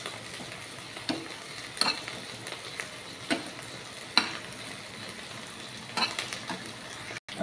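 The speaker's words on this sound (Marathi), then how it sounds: "छोटी कढई ठेवलेली आहे, याच्यामध्ये आपण हे सुकट भाजून घेणार आहोत" Dried fish (sukat) roasting in a small kadhai, with a quiet sizzle under periodic sharp scrapes and clinks of a spatula against the metal pan, close and fairly soft.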